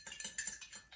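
A bar spoon stirs a Halloween cocktail in a glass with a quick run of faint, rapid metallic clinks over about a second.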